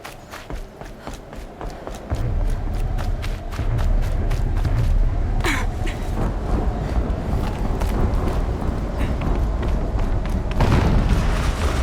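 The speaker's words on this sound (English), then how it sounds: "An explosion." Explosions in the video game Horizon Zero Dawn rumble through deep, sustained booms, with scattered sharp impacts and crackle on top and a fresh swell near the end.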